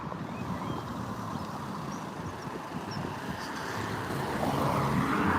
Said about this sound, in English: where's this car going?